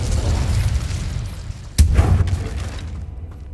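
An Incendio fire spell cast in Hogwarts Legacy lands as a single sudden booming burst mid-clip, over a dense, rumbling low background that fades away afterward.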